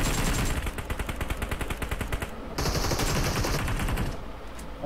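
Rapid automatic gunfire in a PUBG squad match, a dense run of loud evenly spaced shots with a brief pause before a second long burst, close and continuous with no talking.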